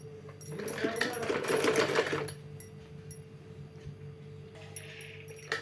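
A sewing machine stitches cloth for a homemade warm shoe in a fast, loud mechanical whirr that runs for about two seconds, then stops. A person talks, and a shorter burst of machine noise follows near the end.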